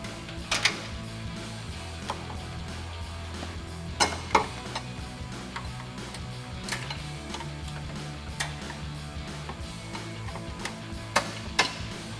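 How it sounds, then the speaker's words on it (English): A clip remover tool pries plastic cover clips out of a Toyota 4Runner, making several sharp, close pops and clicks spaced irregularly over a low steady background hum. "we'll grab a clip remover tool and pop out all these clips"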